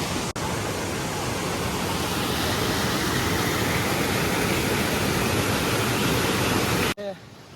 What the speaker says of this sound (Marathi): धबधबा तसाच आहे, फक्त आता फ्लो वाढला आहे पाण्याचा.